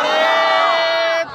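A large religious gathering chants slogans in unison, a dense sustained roar of many voices that holds steady for over a second before cutting off abruptly.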